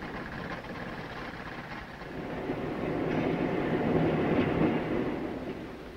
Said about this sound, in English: parallel controlled diesel locomotives transport it over a double set of tracks to the solid motor assembly building